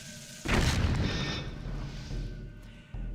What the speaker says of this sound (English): When they're like that, place a bomb.